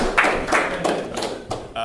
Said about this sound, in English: They're clapping. They're all clapping for me.